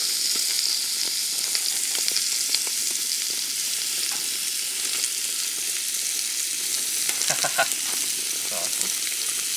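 Food sizzles and fries on a Primus grill stove outdoors in a forest, a steady crackling hiss with scattered pops, while someone briefly speaks over it.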